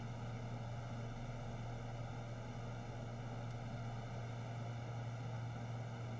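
Twin propeller engines of a Beechcraft C90 King Air in the X-Plane 11 simulator, a steady loud tonal drone with a strong low hum and layered harmonics, unchanging throughout with no talk.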